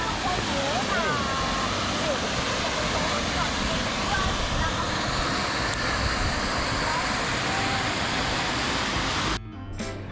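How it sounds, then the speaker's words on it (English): Du Gia waterfall in Meo Vac, Vietnam roars as a loud, constant broadband rush close by, with a voice talking over it before the sound cuts off abruptly near the end. "this is a waterfall in the town of Miovac, and it's called gia Waterfall"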